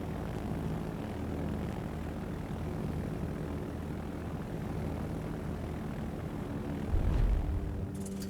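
Propeller aircraft squadron engines drone steadily in a World of Warships naval battle, a continuous mid-level hum with a brief louder swell near the end.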